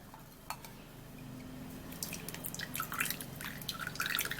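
Liquid drips through a sieve in a kitchen, a few faint drops and light trickles rising toward the end, soft and close, with no talk.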